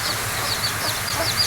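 Backyard chickens kept in their coop during rain give soft, repeated clucks and small calls over a constant hiss of falling rain.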